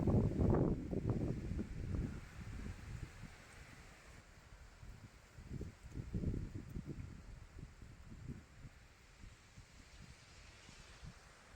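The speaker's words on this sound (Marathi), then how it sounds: "एवढी जोरात वारं सुटलंय" Strong wind gusting outdoors near mango trees, a faint, low rumbling rush with buffeting on the microphone that rises and falls in uneven bursts, quiet overall with no talk.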